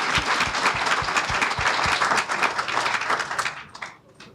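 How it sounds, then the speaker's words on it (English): Dense, sustained applause for Dr. Beverly Guy-Sheftall from an audience at an Oak Bluffs gathering of Morehouse and Spelman people, loud and steady before thinning out over the final second. "She gets applause"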